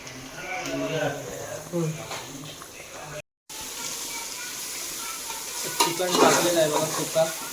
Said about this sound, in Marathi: बघा कशी दिले फोडणी.